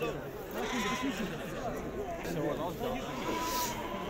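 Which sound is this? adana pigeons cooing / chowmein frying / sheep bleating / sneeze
sheep bleating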